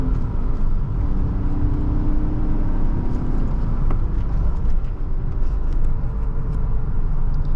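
A 1997 BMW 320i M-Sport Touring pulls at full throttle in second gear up a steep hill, giving a loud, steady, rumbling engine drone with road and wind noise throughout.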